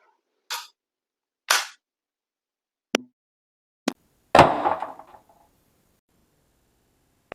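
An Umarex HDR 68 revolver fires as a series of sharp, separate cracks spaced a second or so apart in a quiet space, with the final report louder and followed by a brief rattling decay.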